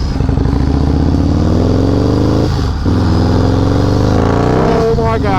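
Harley-Davidson supercharged motorcycle with a Baker 7-speed gearbox accelerating hard in a 4th gear roll-on, a loud, close, continuous engine roar with rising pitch that dips briefly mid-run, like a gear shift, then surges on.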